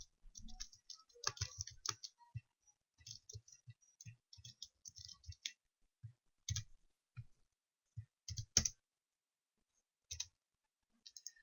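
Sparse clicks of a computer keyboard being typed on, arriving in short irregular bursts with quiet gaps between them in an otherwise silent room.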